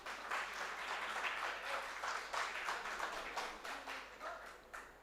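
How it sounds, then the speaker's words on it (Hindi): Audience at a Hindi poetry recital (kavi sammelan) in an auditorium in Bareilly breaks into steady applause, dense clapping from many hands sustained throughout at moderate, fairly distant level. "कृपया करके एक बार तालियों से मुझे सूचित कर दीजिए"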